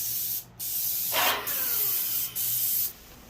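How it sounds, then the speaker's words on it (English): Bursts of a paint sprayer coating cabinet doors in a workshop: three sustained, loud hissing passes separated by short pauses, with no talking. "Ah, spraying cabinet doors. Spraying, not painting it."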